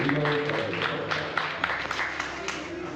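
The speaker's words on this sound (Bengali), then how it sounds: "আমরা এবার জোরে হাততালি হচ্ছে সবাইকে" Audience applause at a cultural association event, a sustained wash of clapping with a voice speaking over it.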